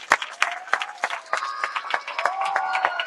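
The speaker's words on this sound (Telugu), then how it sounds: "ఒకటి చప్పట్లు వేసుకోండి" An audience at a primary school's digital classroom inauguration ceremony in Bhuvanagiri gives a round of applause, scattered individual claps ringing out sharply and irregularly over a faint tonal background.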